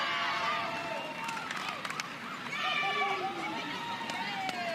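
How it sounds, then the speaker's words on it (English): Stands at a softball stadium during an Oklahoma Spark versus Texas Volts game, a busy crowd cheering and calling out in bursts, with a few sharp claps and whistles among the voices. "mom and sister cheering in the stands"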